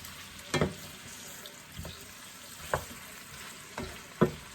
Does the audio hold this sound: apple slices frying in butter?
yes